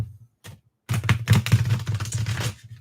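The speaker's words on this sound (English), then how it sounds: "Let's give this a couple more shuffles." A deck of Wild Unknown tarot cards is shuffled close by, giving rapid riffling, flapping bursts. A couple of brief taps come first, then a dense run of crisp card slaps lasting nearly two seconds.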